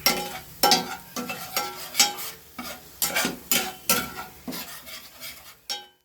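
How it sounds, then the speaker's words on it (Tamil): Tomato sautéing in a pan with turmeric and sambar powder for tomato rasam, with a spoon stirring and scraping in a steady rhythm of close, repeated strokes over a soft sizzle, no voices. "இதெல்லாம் போட்டு நல்லா வதக்கி வச்சுக்கணும்"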